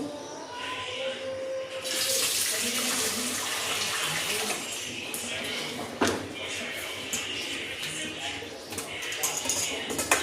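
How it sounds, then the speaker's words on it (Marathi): Fresh ridge gourds are washed under a running kitchen tap, a steady close splash of water lasting throughout with occasional knocks. Someone talks over it. "आता हे जे दोडके आहे ते धुवून घेते."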